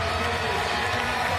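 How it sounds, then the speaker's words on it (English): Arena crowd at the Porte de la Chapelle Arena during Paris 2024 Paralympic powerlifting, reacting to a good lift with a dense, steady roar of noise and applause filling the space without pause. "Huge round of applause from this crowd at the Porte de la Chapelle Arena."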